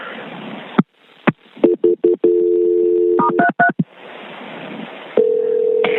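A telephone call to a national park is dialed: clicks and a string of short DTMF keypad tones, then stretches of line hiss and a steady ringback or dial tone, loud and close on a phone line.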